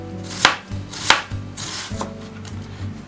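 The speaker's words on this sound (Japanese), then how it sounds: "玉ねぎを薄く切っていきます。" A knife thinly slicing an onion on a cutting board, five or six crisp chopping strokes at an irregular, unhurried pace, close and clear with no talk.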